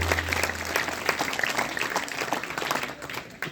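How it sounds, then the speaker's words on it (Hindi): Steady applause rolls from a crowd at an Arya Samaj Vedic bhajan gathering at a gurukul, a dense, even patter of many hands that holds for the whole stretch before easing slightly. "इसलिए एक बार जोरदार तालियां बजाओ उनके लिए।"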